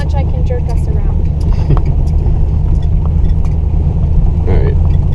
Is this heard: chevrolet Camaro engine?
yes